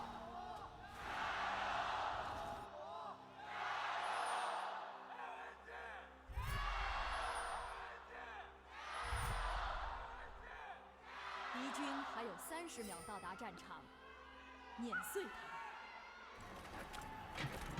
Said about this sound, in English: They have been absolutely yelling their lungs out, and it hasn't even been a minute into the game.